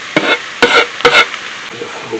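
Three quick scraping, stirring strokes of a utensil folding chicken, potato and vegetable pie filling in a pan, with a faint sizzle between them and no talking.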